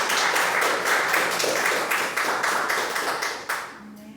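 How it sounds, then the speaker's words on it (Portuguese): A church congregation applauds during an evening worship service, a dense, steady wash of clapping that runs throughout and thins out near the end. "E a igreja aplaude o Senhor dessa noite."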